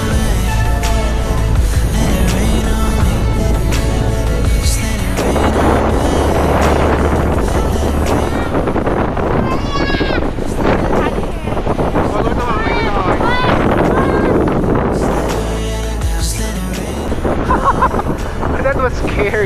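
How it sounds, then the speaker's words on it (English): Strong, intense wind gusts at a bridge near Mount Cook in New Zealand's South Island, loud and continuous with roaring buffeting against the microphone throughout, while people speak underneath. "the wind started to get crazy just as we reached the second bridge. It was pretty strong and intense"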